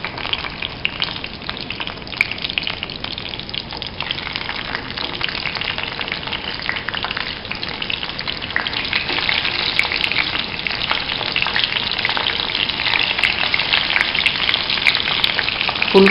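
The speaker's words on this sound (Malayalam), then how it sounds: "ഇപ്പോൾ വെളിച്ചെണ്ണ നന്നായി ചൂടായിട്ടുണ്ട്. അതിലേക്ക് ചിക്കൻ പീസസ് ഇട്ട് വറുത്തെടുക്കും." Chicken leg pieces hiss and crackle in hot coconut oil over a full flame, a loud, dense, continuous sizzle close up with scattered popping spatters and no talking.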